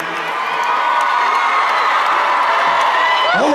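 A concert crowd cheers and shouts continuously at a country show, a loud, dense roar of many voices and whoops held steady throughout, with a few nearer shouts rising near the end.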